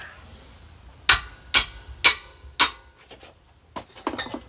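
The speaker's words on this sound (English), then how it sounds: "Yep, I'm using a hammer." Four sharp metallic hammer strikes on a stuck bolt of a Honda Big Red ring out in an even rhythm, close and loud, followed by quieter clinks and taps.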